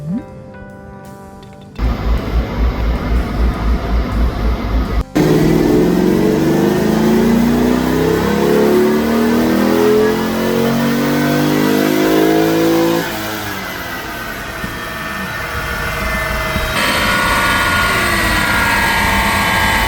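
A midnight purple Rocket Bunny widebody C5 Corvette strapped to a dyno for tuning, its engine revving hard and loud in repeated rising pulls with a steady heavy roar, close up and filling the space.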